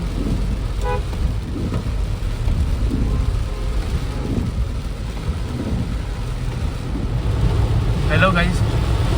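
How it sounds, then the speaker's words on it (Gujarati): Heavy monsoon rain in Mumbai heard from inside a moving car, a steady broadband wash of downpour and road noise throughout, with faint voices under it. "એટલો ધૂમ વરસાદ પડે છે, આગળનો રસ્તો દેખાતો નથી."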